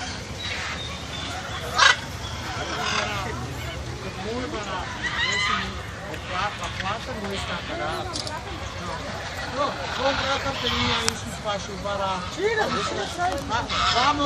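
Harsh, squawking macaw calls ring out repeatedly over a busy, noisy enclosure at Luján Zoo, with people talking throughout.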